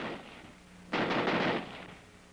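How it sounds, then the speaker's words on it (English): A Browning automatic rifle fires on full auto in a single burst of rapid shots lasting about half a second, loud and close, followed by a fading echo and no voices. "the rifle will continue to fire as long as the trigger is held back"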